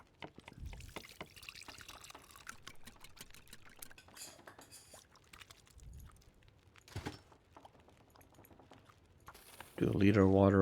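Water is poured in the survival game The Long Dark, a soft, faint trickle and splash under a talking voice, ending in a sudden loud tonal burst.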